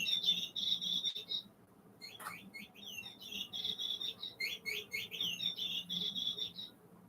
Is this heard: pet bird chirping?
yes